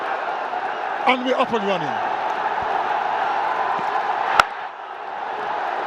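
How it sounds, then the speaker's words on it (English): A stadium crowd at a weekday BPL 2025 cricket match in Dhaka keeps up a steady, broad roar throughout, with a commentator talking over it and a brief sharp crack near the end. "I don't know if our viewers can hear the roar of the crowd."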